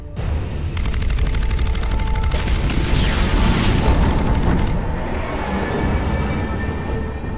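Weapons fire and explosions in the sci-fi shooter Mass Effect 3, with a dense, loud barrage of rapid gunfire and heavy booms that runs steadily before easing into a rumbling tail.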